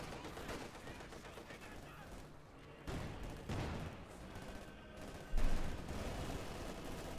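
Distant gunfire and tank shelling in Company of Heroes 2 as a Panther engages advancing Panzers, a dense low rumble of shots and booms under continuous commentary.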